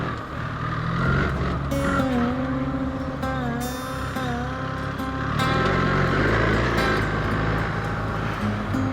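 A BMW R 1300 GS Adventure motorcycle engine rumbles steadily as it rides off-road in second gear, a continuous near, loud drone with small pitch shifts as the throttle rises and eases.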